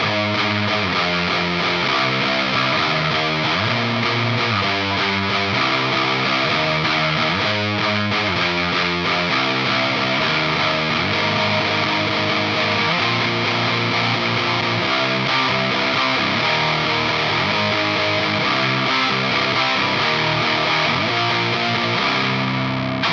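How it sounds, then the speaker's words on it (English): Electric guitar run through a ProCo RAT2 distortion pedal into a slightly crunchy amp, playing a loud, continuous grungy distorted riff with chords throughout, no voices. "The first one is a grungy sort of thing going into a slightly crunchy amp."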